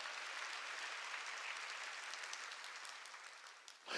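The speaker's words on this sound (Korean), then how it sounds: "박수치며 하나님께 영광 돌릴 거예요." A church congregation breaks into sustained applause, a dense wash of clapping from many hands that fades slightly toward the end, heard at a distance and fairly faint.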